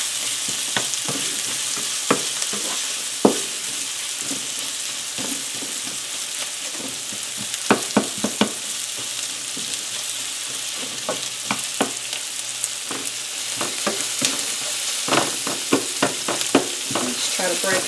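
Salisbury steak patties fry in two pans with a steady hiss of sizzling, broken by frequent scraping and clinking as a utensil stirs and breaks them up, close by and without talk.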